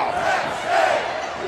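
A loud arena crowd roars and cheers at a Temple versus Penn State college basketball game in the 2018 NIT tournament, a dense, sustained swell of voices.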